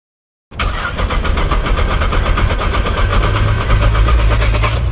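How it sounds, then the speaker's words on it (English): A 2018 Nissan GTR engine turns over with a loud, sustained, rhythmic mechanical churn. It starts abruptly after a brief silence and continues steadily to the end, with no voices. "He hops in to start the car, but she won't crank on the first try."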